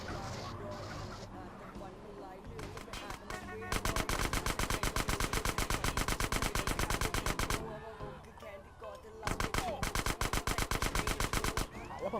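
Loud, fast automatic gunfire from GTA San Andreas rattles in two long sustained bursts with a short lull between them, after a stretch of scattered game noise and a few single shots.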